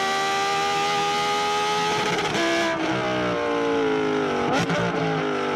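Audi R8 with the 5.2 V10 engine, race headers and titanium exhaust, revving loud and close with a high-pitched, raspy wail, pitch dipping and climbing over several seconds.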